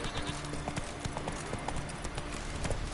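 Hooves of the horse Roach clop in a quick, even trot in a video game, moderately close and steady throughout.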